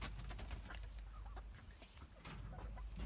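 Several small chickens cluck softly and intermittently at a farm, close by, over a steady low background rumble with no talking.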